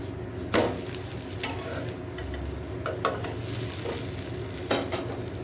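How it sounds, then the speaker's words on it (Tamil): Millet and green gram dosa cooks on a hot stone griddle with a continuous close sizzle, broken by a few sharp scraping and clinking knocks from a utensil. "கல் நல்லா காஞ்சிச்சு நம்ம தோசை ஊற்றி திருப்பி போட்டுக்கலாம்"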